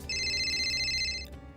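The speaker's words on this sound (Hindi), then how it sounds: "और एक दिन कनिका के फोन पर एक कॉल आता है।" An incoming call rings on a phone in a Hindi animated story: a steady electronic ringtone of bright sustained tones, loud and close, cutting off abruptly after about a second and a half, with no talking over it.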